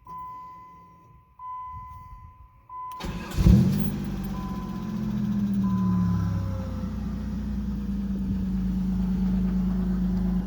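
A 1988 Plymouth Voyager minivan starts with a short cranking burst after a few quiet seconds and faint beeps, then settles into a steady, close engine idle that runs to the end with no talking.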